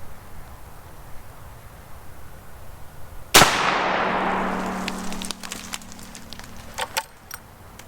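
A single loud gunshot from a Shiloh Sharps cavalry carbine firing Remington 405 grain ammunition at 20 feet, a sharp crack with a ringing metallic tail that fades over a few seconds, then a few faint clicks.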